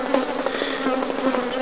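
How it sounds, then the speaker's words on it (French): Honeybees swarming around an open hive during a honey harvest in Agboville, Côte d'Ivoire, a dense, continuous buzzing drone close by with individual bees flitting past, no voices. "les abeilles sont encore en train de stocker, comme vous pouvez le voir"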